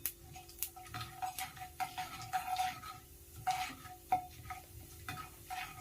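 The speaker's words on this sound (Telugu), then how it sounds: "తర్వాత ఉద్దిపప్పు కొద్దిగా, శనగబేడలు కొద్దిగా వేసుకొని ఫ్రై చేసుకోవాలి." Mustard seeds, urad dal and chana dal fry in hot oil for a bhindi fry, giving a soft, crackly sizzle. Light scraping stirs and small utensil taps sound against the pan, fairly quiet and close.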